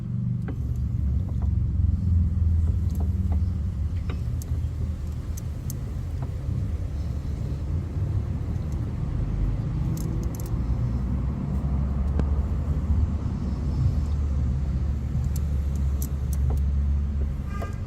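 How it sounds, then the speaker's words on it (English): A Series 1 Holden Commodore with a rebuilt differential runs steadily with a deep, constant engine and drivetrain rumble, heard up close and alone with no talk, and a few faint ticks drift in the background. "The diff sounds good. I'll shut up so you can hear it."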